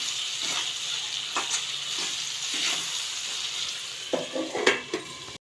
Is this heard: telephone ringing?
no